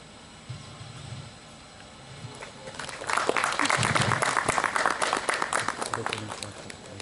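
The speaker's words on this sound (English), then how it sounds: "please honor him by giving a round of applause everyone" Audience at a school Republic Day celebration breaks into a burst of applause midway, a dense patter of clapping that swells and holds near the microphone, with quieter background chatter before it.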